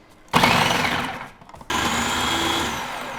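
A food processor with a medium shredding disc shreds cabbage in two loud whirring bursts, the first fading as the motor slows, the second starting abruptly after a short pause and running steady.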